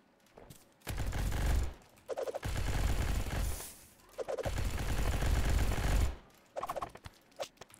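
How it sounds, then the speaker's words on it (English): A minigun in the video game Zombs fires in three sustained bursts separated by short pauses, each a dense, loud rattling roar, followed by a few scattered shots at the end. "This dude's legit got a minigun."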